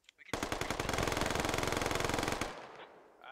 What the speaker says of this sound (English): Your boy Chris takes some shots at John the Bean.